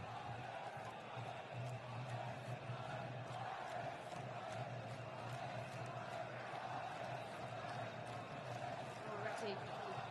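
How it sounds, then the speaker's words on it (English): A Moroccan crowd roars in a stadium during Netherlands vs Morocco, a steady, distant-sounding wall of noise that never lets up. "The roars from the Moroccan crowd behind"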